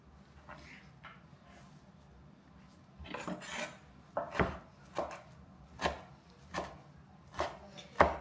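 A knife chops coarsely through fresh parsley on a cutting board for gumbo, a series of about eight sharp, evenly spaced thuds growing louder, close up with no talk.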